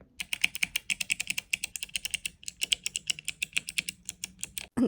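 Typing on a clicky Figma Creator Micro mini keyboard, a rapid close run of sharp crisp key clicks in uneven bursts with a brief pause and a louder final knock, no talking.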